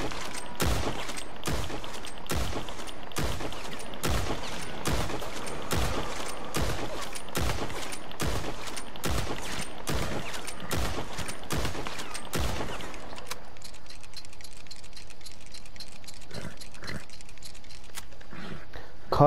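Rapid gunshots from a Litchfield Repeater rifle in the video game Red Dead Online, a loud evenly spaced string of about fifteen sharp cracks, then a quieter stretch of clicks and light mechanical rattling.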